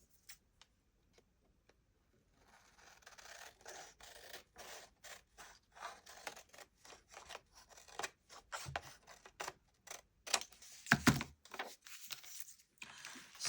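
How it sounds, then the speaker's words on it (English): Scissors trimming the top off a sheet of paper for a steampunk junk journal cover, a quiet run of crisp snips and scraping cuts at close range, with no talk. "I'm just going to trim off that top bit."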